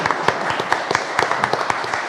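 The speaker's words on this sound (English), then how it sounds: "Let's give them another round of applause" Scattered hand claps from a small audience at a council meeting, a loose uneven patter of individual claps rather than full applause, moderately close and brief.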